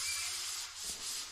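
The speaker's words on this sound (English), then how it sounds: "We're sanding that apex now." Continuous abrasive rubbing of a drywall corner sander against an inside wall corner, a steady hissing grind with slight swells in intensity.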